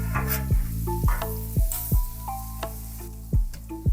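Butter and garlic sizzle and crackle on a hot Blackstone flat-top griddle, with a steady, loud fry broken by several sharp scraping or tapping hits from a spatula at irregular intervals.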